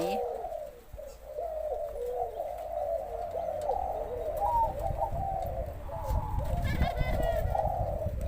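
A spotted dove coos in a repeated, rhythmic series of soft low hoots, close and steady, with faint background noise and some clatter.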